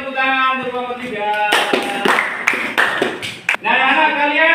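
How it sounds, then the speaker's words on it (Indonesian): A classroom of students claps for a presenting group, a burst of dense, overlapping hand claps lasting about two seconds, framed by a teacher's speaking before and after. "tepuk tangan untuk kelompok 3"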